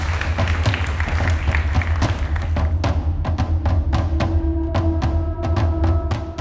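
A studio audience on a Turkish family game show claps loudly and steadily. The sound starts as dense applause and thins into scattered individual claps toward the end, with a faint tone ringing underneath.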